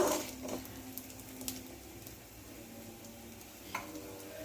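Bottle gourd chutney ingredients sautéing in a pan give a steady soft sizzle, broken by a few light clicks and scrapes from stirring, with no voices.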